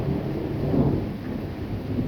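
A low, sustained rumble of thunder from a weak, brief February thunderstorm near Nîmes rolls on steadily for a couple of seconds, distant and muffled with a faint rain-like hiss, no voices.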